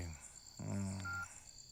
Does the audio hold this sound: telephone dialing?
yes